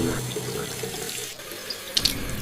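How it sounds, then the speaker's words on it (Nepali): A bathroom water tap runs steadily in a sink, a continuous close rush of water with a few faint clinks near the end. "बाथरुममा साँच्चीकै धारा खुल्ला थियो।"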